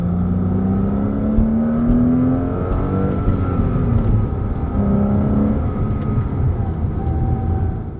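A 2005 Porsche Boxster S with a manual gearbox drives at speed, its engine note droning loud and steady with rising and falling pitch sweeps as it pulls through the gears, plus wind and road roar.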